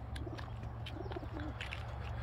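A pigeon cooing softly in a series of low, rounded calls at dawn, faint and somewhat distant over steady background hum, with light chirps around it.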